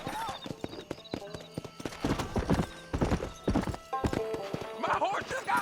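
Horse hooves clip-clopping in a galloping rhythm with a whinny or two in the video game Red Dead Redemption, close and fairly loud, while voices talk over it.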